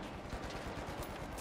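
Gunfire in The Finals, a rapid, dense stream of shots blending into continuous crackling, faint and sustained throughout.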